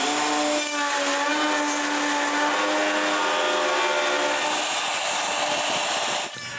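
A handsaw cuts a wooden panel for a criss-cross workbench base, a steady continuous rasping drone that stays loud and even for about six seconds, then stops abruptly.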